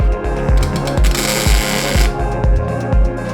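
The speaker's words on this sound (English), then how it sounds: "That sounded like a garbage weld." Plug welds laid on 16 gauge steel with a MIG-style welder during a metal blade build, a close, loud crackling buzz pulsing in a steady rhythm of about two bursts per second, with no talk.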